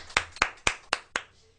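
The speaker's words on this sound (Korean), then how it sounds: "박수와 함께 시작하겠습니다." Five sharp, evenly spaced claps ring out over about a second and a half as a lecture opens, each a distinct crisp slap with a short decay, fairly close and moderately loud.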